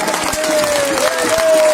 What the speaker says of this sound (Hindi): ताली बजा के दो